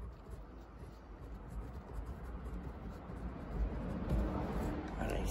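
A pen or pencil writes a name on paper in a continuous, soft scratching close by, faint and steady with slight swells toward the end.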